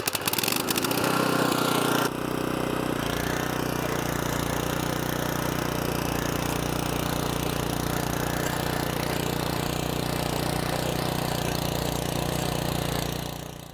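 Walk-behind front tine rototiller engine running close and steady, a constant mid-pitched chugging drone with a brief clattering start at the beginning.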